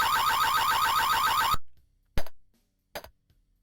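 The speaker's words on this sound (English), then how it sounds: "As I enter the room, the burglar alarm sounds" Burglar alarm in the 1989 Access Software game Tex Murphy: Mean Streets, a loud pulsing electronic siren that repeats steadily for about a second and a half, then cuts off, followed by two short thumps in silence.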